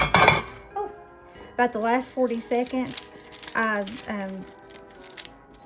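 A whisk rattles and clinks against a pot of Halloween candy mixture, loudest in a quick burst at the start, then softer under someone talking.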